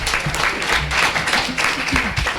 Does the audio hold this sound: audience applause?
yes